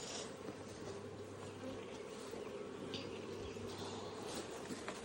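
Honeybees buzz steadily in an opened beehive while a new honey super is being added, a dense continuous hum close by with a few passing louder drones.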